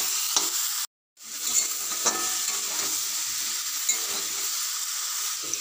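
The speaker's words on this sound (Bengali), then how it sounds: "এবারে দিয়ে দেবো কেটে রাখা বেগুনটাও দিয়ে কিছুক্ষণ কষে নেবো।" Eggplant and mixed vegetables stir-fried in a pan, a steady close sizzle broken by a brief dropout, with scraping stirs and small clatters of a spatula throughout.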